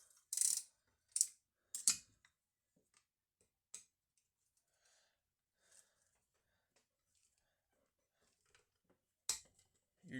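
A ratchet works on a stubborn bolt during a McCulloch MC49 engine rebuild. Sharp, quiet mechanical clicks and ticks come in irregular bursts with long near-silent gaps between them, close to the listener.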